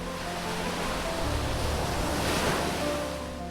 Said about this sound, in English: The waves crashed violently against the jagged rocks of Blackstone Isle